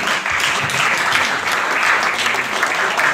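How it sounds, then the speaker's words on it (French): An audience at a casino's twentieth-anniversary celebration applauds breakdance performers, dense bright clapping that stays loud and continuous throughout, close and full, with no speech over it. "On peut leur applaudir encore."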